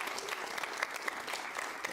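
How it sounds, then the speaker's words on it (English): Light, polite golf-clap applause from a studio audience, a sparse patter of scattered individual claps rather than a full ovation, steady and moderately close. "I love these golf claps."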